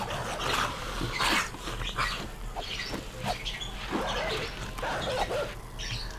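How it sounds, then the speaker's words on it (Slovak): A dog barks repeatedly at moderate distance in the video game 7 Days to Die, several sharp yelps spaced irregularly over a faint background. "Niekde počujem psa."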